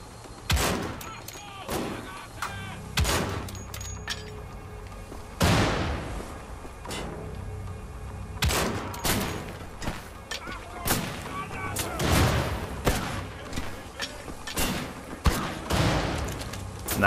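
Gunfire in Wolfenstein: The Old Blood cracks out in repeated sharp bursts and single shots, loud and irregular, with thuds and impacts between them throughout a chaotic firefight.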